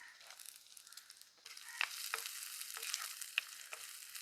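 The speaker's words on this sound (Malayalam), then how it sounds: "പാകത്തിന് പച്ചമുളക് ഇട്ട് കൊടുക്കാം ചെറിയുള്ളി ഇട്ട് കൊടുക്കാം" Green chilies and shallots frying in a pan, a soft steady sizzle that jumps louder as they go in, with sharp clinks and scrapes of a spoon stirring, close and without talk.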